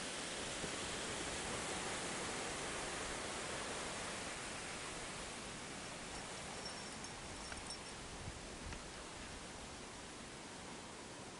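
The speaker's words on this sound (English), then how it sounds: "There's the upper falls once again" The upper falls of Minneopa Creek roar as a steady, dense wash of falling water, nearby and continuous with no voices over it.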